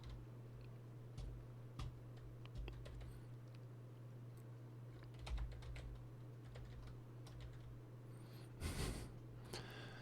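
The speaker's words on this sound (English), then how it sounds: "you can hear my keyboard?" Quiet typing on a computer keyboard, scattered soft key clicks and a few quick bursts of keystrokes over a steady low electrical hum, with no voices.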